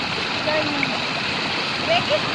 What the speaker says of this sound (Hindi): ये फिर से इतना ज़्यादा पानी निकल रहा है, कुछ इधर से आता है, कुछ वहाँ से आता है